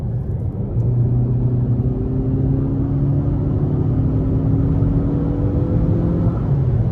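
Steady, loud engine drone from a 2023 Nissan Altima SR with the VC Turbo engine at full throttle, rising in pitch as it accelerates under a constant road rumble, with no talking.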